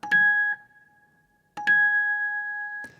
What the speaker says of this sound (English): But if you play it up high, it has this bell-like quality.